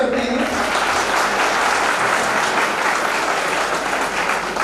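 Audience of pharmacy students applauding at an institute event in Gorakhpur, a dense sustained burst of clapping that carries on steadily from start to finish.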